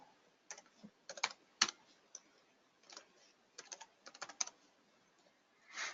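Numbers typed on a computer keyboard, heard as short bursts of close, fairly quiet key clicks separated by pauses.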